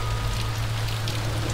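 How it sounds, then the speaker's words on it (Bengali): Heavy rain pours down steadily on a street at night, a dense continuous hiss of drops striking surfaces with a low rumbling undertone, close and loud throughout with no voices. "হঠাৎ করেই যেন বৃষ্টির গতি আরো খানিকটা বেড়ে গেল।"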